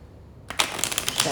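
A deck of cards is riffled and shuffled close by, a quick burst of fluttering snaps after a brief quiet pause.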